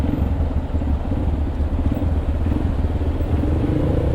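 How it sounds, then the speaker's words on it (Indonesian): Automatic scooter motorcycle descending a steep slope at Bromo toward the sand sea, its engine droning steadily and close with low rumbling clatter throughout, no talk. "Aku nih pakai motor Matic"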